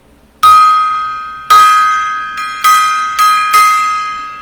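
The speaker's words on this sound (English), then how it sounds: "Gong time." A gong is struck five times at uneven intervals, each loud metallic hit ringing out and decaying before the next, with no talking over it.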